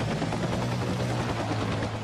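AH Air Cobra helicopter in a video game, a steady whirring engine drone with a low rotor hum, continuous and close.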